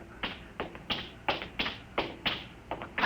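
Footsteps approaching as a radio drama sound effect, about eight evenly paced taps on a hard surface, fairly faint and alone, with no talking.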